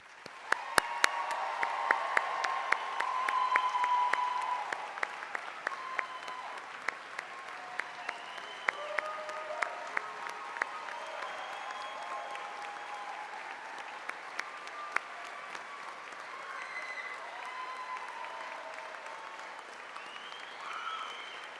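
Sustained applause from a large audience greets the graduating class at a summer graduation ceremony, a dense wash of clapping with sharp individual claps, steady for about twenty seconds and heard from some distance in a big hall.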